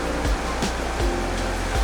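Fast-flowing river water rushing down a steep chute in pocket water, a loud continuous roar close by with a few dull knocks.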